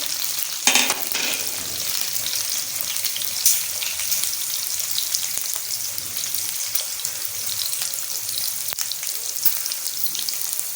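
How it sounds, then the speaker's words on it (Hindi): Spices for a nihari tempering sizzle and crackle in hot oil, a steady bright hiss close by with occasional sharper pops, with no voices over it. "थोड़ा सा तड़का लगा रहे हैं।"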